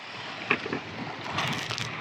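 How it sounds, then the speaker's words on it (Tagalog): Wind and rushing water from big waves around a small fishing boat out at sea, a steady broad wash with a few louder slaps and surges, close and fairly loud, with no voices. "Ang laki ng alon mga ka-fishing."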